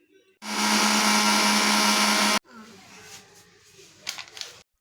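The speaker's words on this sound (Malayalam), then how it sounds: "കുറച്ച് വറുത്ത കപ്പലണ്ടി എടുത്തിട്ട് അത് നന്നായിട്ടൊന്ന് പൊടിച്ചെടുക്കണം" A mixer grinder grinds roasted peanuts to powder in a home kitchen. The motor roars loud and close in one steady burst of about two seconds, then cuts off, leaving quieter handling sounds.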